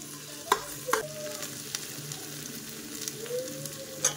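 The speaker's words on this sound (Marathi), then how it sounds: "मसाला मस्त तळलाय बघा" Masala quietly sizzles in a pan, a soft continuous frying hiss broken by a few sharp clinks and scrapes of a spoon stirring, with no voices.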